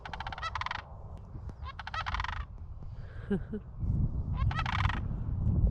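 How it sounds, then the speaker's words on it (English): Loud rattling, trumpeting sandhill crane alarm calls come in several bursts over a low background rumble, with a brief quieter call between them. "Right there are some geese and some sand cranes. Crane alarm."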